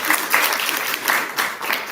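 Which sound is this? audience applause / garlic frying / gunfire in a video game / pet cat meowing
audience applause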